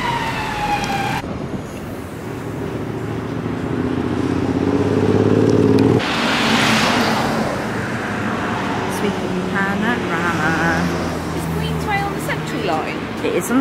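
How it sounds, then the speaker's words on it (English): Evening traffic at Trafalgar Square, London, with engines passing and a siren wailing through, loud and continuous, while people talk nearby and a vehicle surges past midway. "All these cars."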